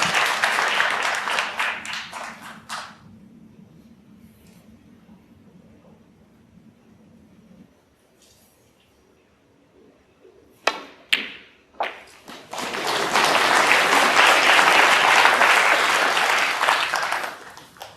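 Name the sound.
smattering of applause from table 2 at snooker match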